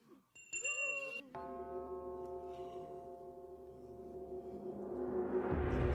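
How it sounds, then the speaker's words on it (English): A bell from the animated film The Great Mouse Detective rings out after a brief opening sound, its clear tone sustained and slowly decaying, with rising noise building toward the end. "what about that moment in The Great Mouse Detective? You know the one I'm talking about, the one with the bell?"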